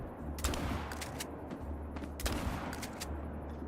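A 16 gauge shotgun fired while hunting geese in Call of the Wild: two loud blasts about two seconds apart, each followed by a few quick cracks, over steady low ambience.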